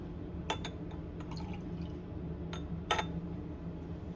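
Hydrochloric acid poured into a lab beaker holding a pH probe and stirring rod during a titration: a few faint drips and light glassy clinks over a steady low hum.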